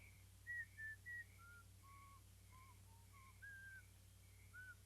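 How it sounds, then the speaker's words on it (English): Someone whistles a short, quiet tune of separate notes, a few quick high ones then slower, lower ones, over a faint steady hum. "tell that friend over there to start whistling and to keep whistling"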